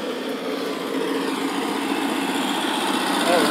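A tractor engine runs steadily at close range, a continuous mid-pitched chugging drone with no pauses, while people talk nearby.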